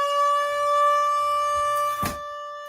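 A steady, sustained siren wails with strong harmonic tones throughout, fairly close, with a brief thump or bump near the end.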